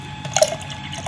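Sprite soda poured into a glass of sweetened milk for a milk soda drink, a brief, fairly quiet splash and trickle of liquid with a small swell near the middle.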